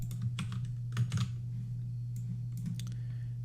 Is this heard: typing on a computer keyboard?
yes